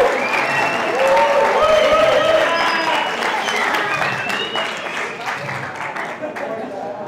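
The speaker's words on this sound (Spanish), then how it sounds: "Un aplauso, por favor." An audience at a leadership talk applauds loudly and steadily, the clapping swelling then gradually tapering off over several seconds, with some voices mixed in.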